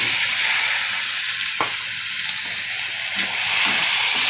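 Sliced onions sizzle hard in hot oil in a pan, with a constant bright frying hiss close by, a few stirring scrapes and clinks, and no talking.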